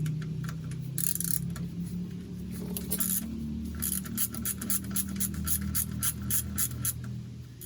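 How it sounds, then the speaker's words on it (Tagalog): A wrench ratchets rapidly while loosening 10mm bolts around a Toyota automatic transmission pan, in quick bursts of close, crisp clicking with brief pauses between bolts and a low background hum. "remove 10mm bolts around the pan"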